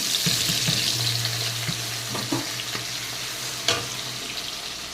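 Chopped onions sizzle in hot oil with cinnamon and cloves, a steady close frying hiss with occasional spoon scrapes and clicks and a low hum running underneath.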